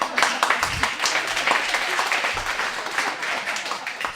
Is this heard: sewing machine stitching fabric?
no